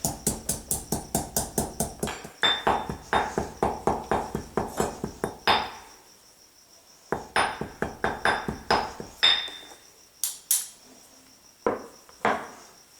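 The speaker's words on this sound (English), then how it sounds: "I'll chop the sage down with my fingers a little bit, and then we'll start pounding and make like a small paste" Fresh sage leaves are pounded by hand into a paste, making a fast, steady run of close thumping strikes that pauses briefly, then resumes in uneven bursts.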